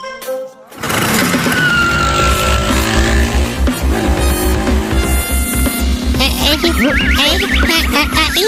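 A car engine roars and speeds away, racing to reach a house before heavy rain. The engine stays loud and steady across the clip, starting after a brief quieter moment, with busy mixed effects layered over it.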